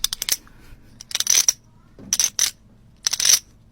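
Coins drop and jingle in four separate bursts of metallic clinking, close and bright, with short quiet gaps between them during a guessing game prank.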